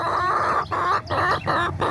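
Chickens in a permaculture pen cluck and call repeatedly, close and loud, in short bursts with brief gaps between them.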